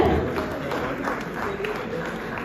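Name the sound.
audience applause at award ceremony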